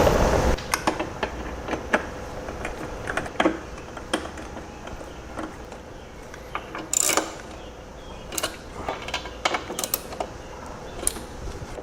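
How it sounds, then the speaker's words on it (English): Headlight bracket bolts are tightened on a Harley Road Glide. Quiet, irregular metallic clicks and ratcheting ticks come in short bursts, close by, with brief pauses between them and no talking. "now I'll go ahead and tighten those up"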